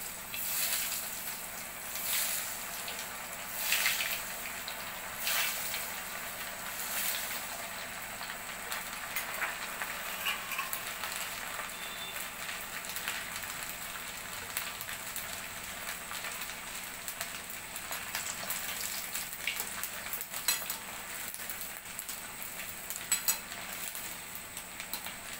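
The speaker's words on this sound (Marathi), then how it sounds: "त्याच्यामध्ये आता आपण आपले हे बॉल्स तळून घेणार आहोत" Rice cheese balls deep-frying in hot oil, a continuous fine crackling sizzle with occasional clinks of utensils against the pan, steady and close throughout.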